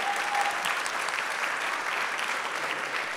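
An audience at an ocean-cleanup network's document launch in Rio de Janeiro gives the team a round of applause, thick and even, holding at a steady level throughout.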